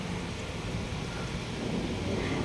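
Heavy rain beats steadily outside a window during a storm, a dense, unbroken roar of water with a low rumbling undertone that fits thunder, loud and continuous with no talk.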